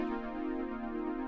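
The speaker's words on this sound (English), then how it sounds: "it creates an ascending arpeggio and it sounds like this" A sustained synth chord in Logic Pro X with notes stepping upward in a quick rising arpeggio, steady and fairly quiet, with no voices.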